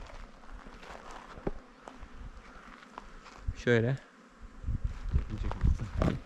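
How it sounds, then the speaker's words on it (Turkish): Honeybees buzz softly and steadily around a hive, with brief louder passes and a short spoken word partway through. "Arı güzel çalışıyor burada."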